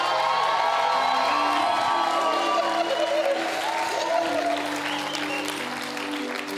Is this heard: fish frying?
no